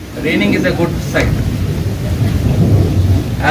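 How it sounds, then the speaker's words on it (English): Heavy rain pours steadily through a thunderstorm at an outdoor football tournament in Ramanagaram, with a low, rolling thunder rumble underneath and faint voices mixed in. "Raining is a good sign."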